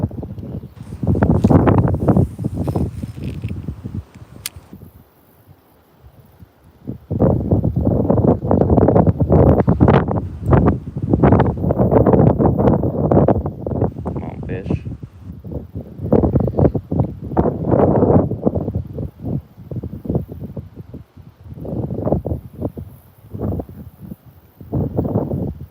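Gusty outdoor wind buffets the microphone in strong, uneven surges, loud and close, on a windy, rainy day in North Carolina, with brief quieter lulls between blasts.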